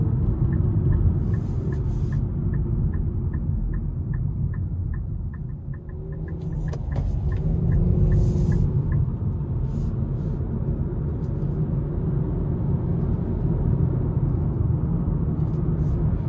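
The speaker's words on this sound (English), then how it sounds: "you're gonna hear the tires hit the pavement, especially on that rougher stretch of the interstate" Tires of a 2026 Nissan Sentra SL rolling over a rougher stretch of interstate pavement, heard from inside the car as a steady, loud low rumble and roar, with faint ticking from the cabin along the way.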